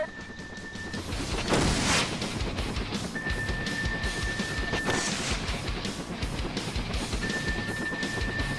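A rocket explosion strikes in the helicopter combat game Thunder Wolves, a sharp burst with a rushing roar around the second mark, then a second blast, over a constant engine drone and intermittent electronic warning beeps.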